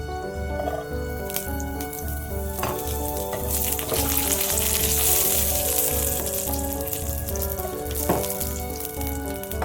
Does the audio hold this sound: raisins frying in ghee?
yes